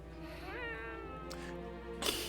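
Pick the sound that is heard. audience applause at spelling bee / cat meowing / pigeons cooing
cat meowing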